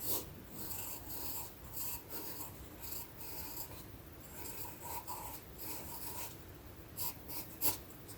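Pencil sketching on paper as an anime braid is drawn, a steady scratchy rasp of short strokes repeating in bursts, close and fairly quiet, with no talking.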